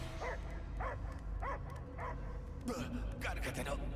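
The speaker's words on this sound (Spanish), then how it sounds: "Yo solo oigo ladridos." Dog barking in the Guardians of the Galaxy video game, a series of short rhythmic yips and barks under game dialogue and a low background score, repeating about every half second.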